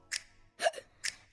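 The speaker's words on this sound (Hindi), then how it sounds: "मुश्किल है कैसी आवाज है हिलती, देखो ना रुकती क्यों आए साली हिचकी।" Hiccups in a Hindi film song, three sharp, close hiccup bursts spaced through a short quiet passage with no voices.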